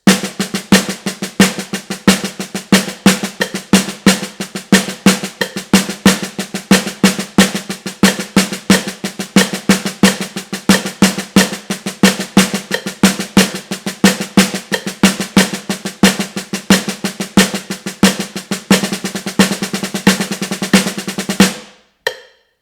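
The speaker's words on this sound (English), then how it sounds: "Now let's try playing the whole paradiddle pyramid." Drum paradiddle pyramid played on a practice drum at 90 beats a minute: a long, steady stream of crisp, evenly spaced sticking strokes with accented hits, close and loud, alone without talk, ending abruptly.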